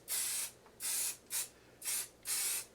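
505 spray adhesive sprayed from an aerosol can, five short hissing bursts in even rhythm, close and clear with quiet gaps between.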